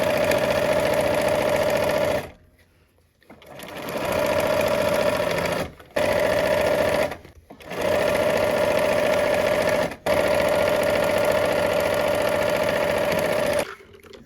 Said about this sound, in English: let's go ahead and sew this last seam